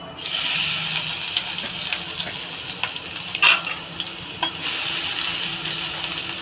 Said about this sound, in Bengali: আমি এই রসুন আর আদাটা আমি ঘষে নিয়েছি। আমি এবার সবার প্রথমে এটা দিয়ে দেবো।